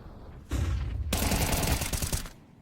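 Gunfire in the video game Counter-Strike during a StarLadder StarSeries South America qualifier match, a sharp burst of shots that rings out and fades after about two seconds.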